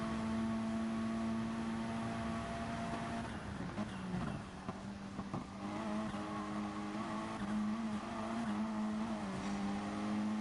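Gran Turismo-style racing game car engine holding a steady high drone, dipping briefly as the car runs wide toward the barrier before resuming its sustained whine.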